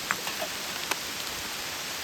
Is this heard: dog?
no